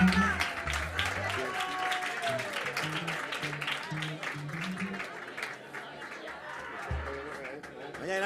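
Audience applause welcomes a singer at a live music concert, with clapping from a crowd running under talk and low musical tones throughout.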